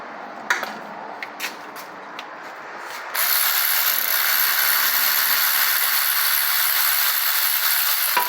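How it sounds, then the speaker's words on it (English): An electric ratchet works on the transmission pan bolts of a Mercedes 9G-Tronic 725.0 gearbox. It starts with a few short clicks, then runs as a steady, loud mechanical whir for several seconds with no voices. "Loosen them first, and then we can hit them with the electric ratchet."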